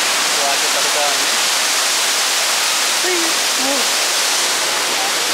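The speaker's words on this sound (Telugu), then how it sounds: "వాటర్ పడుతా ఉంది" Water falls steadily in the parrot enclosure at Bird Paradise in Singapore, a loud continuous broadband rush filling the whole stretch, with a few faint bird calls poking through near the middle.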